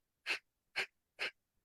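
Three sharp, forceful exhales through the nose, evenly spaced about half a second apart, close and clear against silence, as in a pumping-belly yoga breathing exercise with very short inhales.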